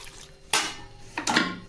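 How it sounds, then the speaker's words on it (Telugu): Two short bursts of water splash into a pressure cooker holding spinach and lentils, a brief pour followed by a second one, quiet in between. "సరిపడగా వాటర్ వేసాను"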